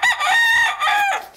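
A Blue Hen chicken, Delaware's state bird, lets out one loud, close crow that rises and holds for about a second before trailing off.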